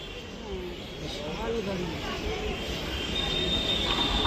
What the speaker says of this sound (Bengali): Through train will be passing from platform number